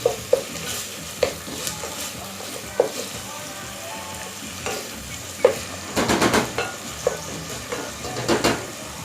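Eggplant and chicken stir-fry being stirred in an oiled pan with onion, garlic, pepper, celery and cayenne: repeated scraping strokes over a continuous sizzle, close and fairly loud, with a cluster of brisk stirs near the end.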